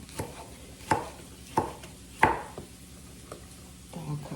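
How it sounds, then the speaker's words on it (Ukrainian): Sharp knife chops through fish on a cutting board, four or five spaced strikes with short pauses between, close and fairly loud. "Рибу також нарізаю шматочками."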